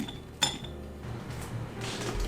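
Soupy leftover food dumped into a bowl with potatoes, giving a single sharp clink of a utensil or dish against the bowl, then soft wet sliding and clattering close by, with no talk.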